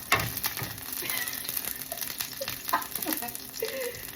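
Garlic sizzling and popping in a hot pan, a steady crackling fry with scattered sharp pops, fairly close but not loud.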